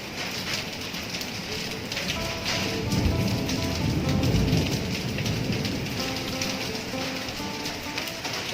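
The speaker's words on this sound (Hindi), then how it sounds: "लिटरली ओले पड़ रहे हैं बहुत ज्यादा" Heavy rain mixed with large hailstones pounds down during a storm in India, a dense continuous hiss and patter that swells slightly in the middle, steady and close with no talking.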